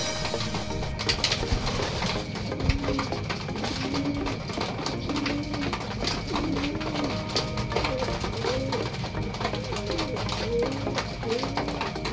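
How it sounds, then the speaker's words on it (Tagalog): Pigeons coo repeatedly in soft rolling phrases, several birds overlapping at close range, with a steady background hum and an occasional thump. "Ito yung mga kalapati natin."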